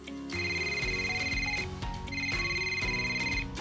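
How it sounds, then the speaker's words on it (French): A telephone rings in the Memo Master auditory memory game, two long electronic trills separated by a short gap, loud and clean with no voices. "Alors, c'est un objet, puisque c'est un téléphone."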